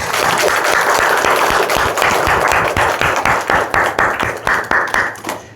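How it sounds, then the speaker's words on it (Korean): A church congregation claps together during a Sunday morning worship service: dense, sustained applause that fills the room, thinning toward the end into scattered individual claps. "이 예배를 받으시는 하나님께 우리 영광의 박수 한번 올려주세요"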